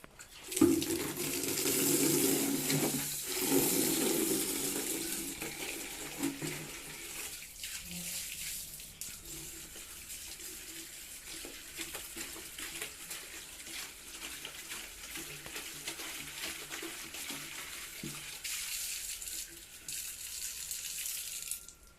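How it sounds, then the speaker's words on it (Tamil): Running water pours into a bucket as it is washed, a steady close splashing and gushing that goes on throughout with small shifts in force, a few clunks and no talk. "முதல்ல இந்த பக்கெட்டை கழுவிக்கலாம்."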